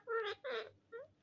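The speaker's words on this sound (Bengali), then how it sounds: "Miao Miao Miao Miao" A cat meows three times in quick succession, quiet and close, with two longer calls followed by a shorter one.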